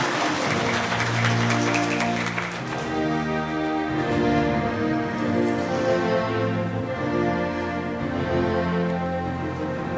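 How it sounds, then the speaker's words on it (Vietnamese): A church congregation claps for a newly ordained priest at his first Mass in Cổ Liêu parish, with a sustained wash of applause that blends with music playing underneath. "Quý cộng đoàn cùng nổ một tràng vỗ tay thật lớn để chúc mừng cho cha đi xe của chúng ta."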